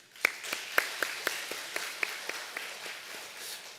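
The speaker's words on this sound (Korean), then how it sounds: "우리 서로에게 격려의 박수 하겠습니다." A church congregation claps in a steady, evenly spaced rhythm during a Korean worship service, each sharp clap distinct against a quiet, reverberant room, moderately loud and unaccompanied by talk.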